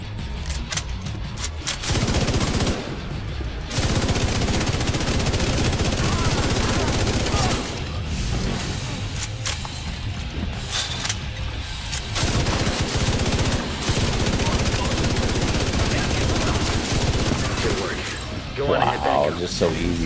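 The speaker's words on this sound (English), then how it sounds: "And that is the new exotic LMG. You guys saw what it could do." An exotic light machine gun fires in a video game shooter, loud sustained bursts of rapid automatic gunfire with short gaps, while a person talks over much of it.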